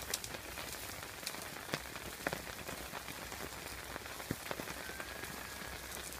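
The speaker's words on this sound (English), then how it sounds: "I can't believe it's absolutely pouring it down" Steady heavy rain pouring down on a campsite, a dense continuous hiss with occasional louder drips and splashes close by.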